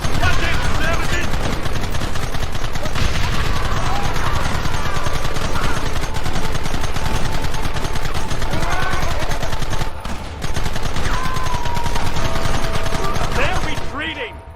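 Loud, continuous gunfire from a Red Dead Redemption shootout, with rapid overlapping shots and bursts lasting throughout, a brief dip near the end, and shouting voices mixed in.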